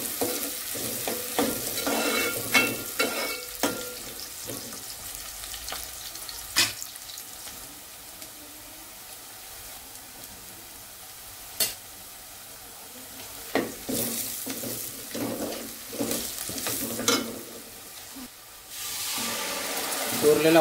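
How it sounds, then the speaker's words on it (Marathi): Tempering sizzles in a pan as kokum is added for a crab curry, a soft steady frying hiss broken by intermittent stirring clatters and spatula scrapes, with occasional talk nearby. "तर ही मस्तपैकी आता वहिनी फोडणी देते आहे"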